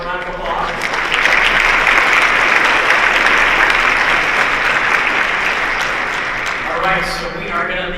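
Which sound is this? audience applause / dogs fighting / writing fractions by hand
audience applause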